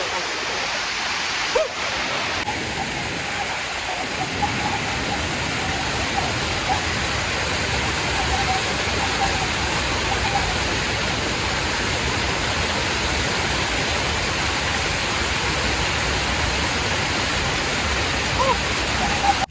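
The Narasipuram multi-step waterfall roars steadily and loudly, a dense unbroken rush of falling water that fills the whole stretch without pause, heard up close with no talk over it.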